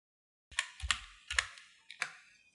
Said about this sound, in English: Let's type our channel name right over here.